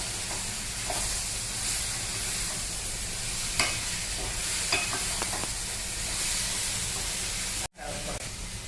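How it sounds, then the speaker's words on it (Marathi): Capsicum, potato and peas are stirred in a hot frying pan, a steady sizzle with soft scraping strokes of a spatula and a few clicks, close and continuous, with a brief drop near the end. "हे मिक्स चांगलं करून घ्यायचं"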